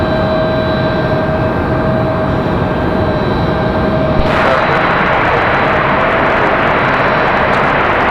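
Aircraft noise at Raleigh Durham International Airport: a loud, steady broadband roar of a passing airplane that swells and grows brighter and harsher about halfway through, with no talking.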